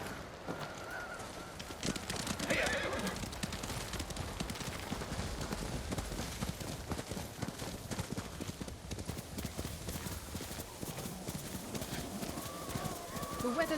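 A horse's hooves clip-clop steadily through a snowy setting in the video game Ghost of Tsushima, with a faint whinny. Characters talk over the continuous trotting.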